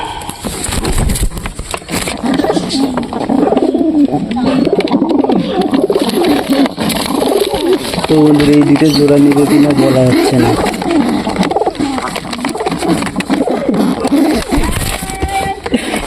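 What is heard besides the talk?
lakka pigeons cooing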